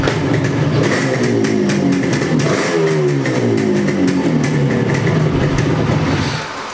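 A Yamaha RD two-stroke motorcycle with a new silencer revs up and down close by, its engine note rising and falling in repeated sweeps, loud and unaccompanied by speech.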